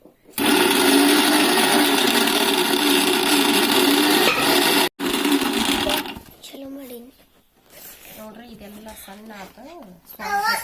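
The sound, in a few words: mixer grinder grinding ginger and garlic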